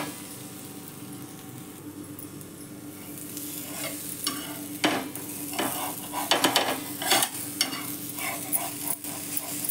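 Leaf rolls roast in a pan with a low steady sizzle, and repeated spatula scrapes and clinks grow busier and louder toward the end.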